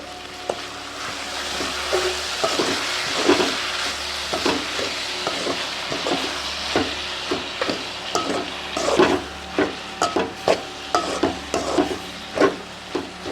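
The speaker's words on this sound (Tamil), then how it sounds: "வாழைப்பூ சேர்த்துக்கலாம். நல்லா எண்ணெயிலே வதங்கிட்டு" Banana flower and garlic sautéing in oil for a pickle, a continuous close sizzle broken by rhythmic scraping and clacking strokes of a stirring utensil against the pan, with no voices.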